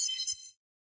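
Kiss bonus chime from a video game: a single bright, glittering tone with a ringing shimmer that lasts about half a second before cutting off cleanly, heard alone.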